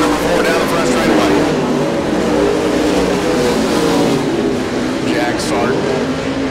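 Race cars roar down the front straightaway off turn four in a close oval-track race, a loud, steady engine drone with layered passing cars and crowd ambience throughout.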